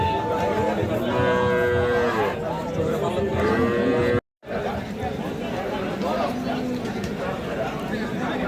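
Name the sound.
cattle mooing at a cattle market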